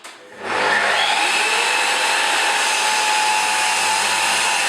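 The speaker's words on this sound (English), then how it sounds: "When I start the saw, the extractor's going. So I'm now going to do a few cuts" A Festool saw spins up and cuts with a Festool CTL 26 dust extractor running alongside, making a loud, continuous whining roar that starts abruptly and holds steady nearby.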